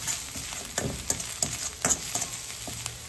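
Vegetable manchurian tossed with finely chopped coriander stems, sizzling steadily in a pan with a run of soft scraping stir strokes at a regular pace, close and moderately quiet, no voices.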